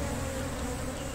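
Dense, continuous buzzing of many honeybees at a hive being split into new colonies, a steady droning hum close by with no pauses.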